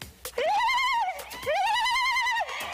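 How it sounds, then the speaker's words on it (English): A high, warbling ululation from one voice, two long trilling bursts with a brief breath between them, close and loud. "Mogolokwane describes the sound of ululation"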